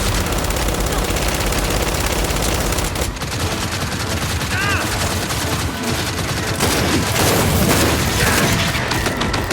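Heavy gunfire in Gears of War 5, with a .44 Magnum among the shots, rattles almost nonstop as a dense fusillade of loud, booming bursts across a chaotic battle mix.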